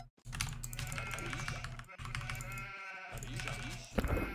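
Sheep bleating in the Age of Empires video game, a few short bleats mixed with keyboard typing and game sounds throughout, with someone talking over the top.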